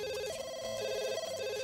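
A telephone rings in The Sims 2, a steady electronic warble in repeated bursts, loud and alone with no talk over it.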